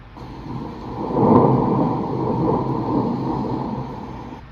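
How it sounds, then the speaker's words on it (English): A low, rolling rumble of recorded thunder from a sleep app, played through a Feit Electric LED bulb speaker, swells to a peak and slowly fades into a steady murmur, with no voices present. "Thunder."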